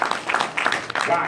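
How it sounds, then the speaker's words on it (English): Audience applause at a photographers' diversity meeting of professional imaging associations, a brief dense patter of clapping from a crowd in a hall, fairly loud and continuous. "Give yourselves a round of applause, please."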